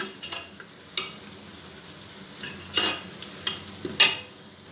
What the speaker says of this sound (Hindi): इसमें मैं डाल रही हूँ काली मिर्चें, सौंफ, ज़ीरा और एक साबुत इलायची बड़ी वाली। इन्हें इसके साथ फ्राई कर लेते हैं।